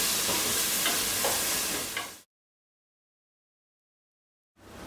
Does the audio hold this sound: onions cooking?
yes